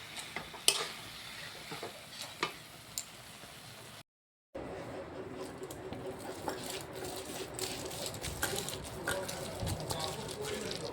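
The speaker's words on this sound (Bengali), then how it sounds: "নারকেলের সাথে চিনিটা দিয়ে এর মধ্যে একটু এলাচ গুঁড়ো দিয়ে আমি ভালো করে নেড়ে নিচ্ছি" A spoon stirs coconut, sugar and cardamom in a pan for nadu, making soft scraping and light ticking clinks close by at a low level, broken by a brief silent gap, with low talk faintly underneath.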